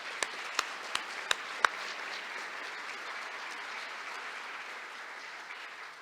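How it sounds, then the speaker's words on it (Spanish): Applause for the author at a book presentation: a few distinct sharp claps up front, then a broad, fairly soft wash of crowd applause sustained throughout. "Nuevamente un aplauso para la autora del libro."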